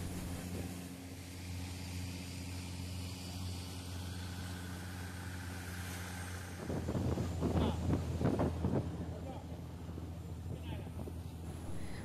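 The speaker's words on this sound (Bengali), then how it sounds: "তোমরা এখন দেখতেই পাচ্ছ আমরা এখন বোটে করে যাচ্ছি বিভিন্ন আইল্যান্ড ঘুরবো বলে।" A long-tail boat carries passengers between islands off Krabi, Thailand, its engine droning steadily with wind buffeting the microphone, and the engine noise swells louder for a few seconds partway through.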